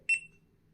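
A GoPro HERO 12 Black gives one short, bright electronic beep on a voice-command capture, close and clear, then fades into faint background hum.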